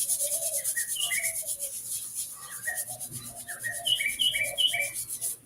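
Two hands rub briskly together like sandpaper during a qigong exercise, giving close, rhythmic swishing strokes in a steady back-and-forth pattern with no talking.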